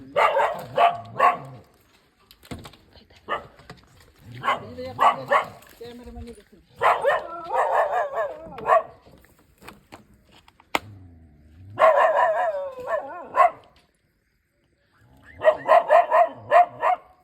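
Dogs bark loudly and close by in repeated bursts of several sharp barks each, separated by short silences over an extended stretch.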